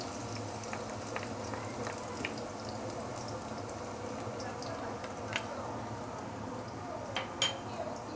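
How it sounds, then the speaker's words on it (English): Ginger and garlic sauté in hot oil in a pan, giving a steady soft sizzle with occasional small clinks of utensils, fairly quiet and continuous. "Once the oil is heated up, we can put in the ginger and also garlic to saute."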